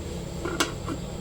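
A single short metallic clatter of a lid set onto a pot of water with salt, close and fairly quiet, with soft faint clinks just before and after.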